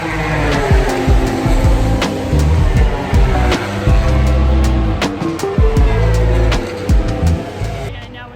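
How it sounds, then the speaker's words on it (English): MotoGP motorcycles in a practice session at Silverstone race by in loud, repeated passes with rising and falling engine whines, a new bike sweeping through every second or so, close and dominant. "right now it's the actual MotoGP practice"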